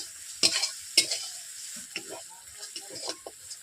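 Ginger and garlic fry in oil with a soft, continuous sizzle, broken by a few sharp clacks and scrapes of stirring; something close to speech briefly sounds in the background.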